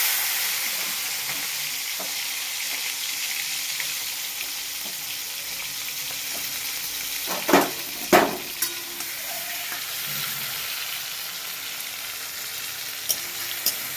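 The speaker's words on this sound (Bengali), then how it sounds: "তেলটা আমার গরম হয়ে গেছে, চিংড়ি মাছটা একটু হালকা করে ভেজে তুলে রেখে দেবো।" Prawns fry in hot oil for a shrimp dalna, giving a steady close sizzle with a few sharp clatters and stirring knocks partway through.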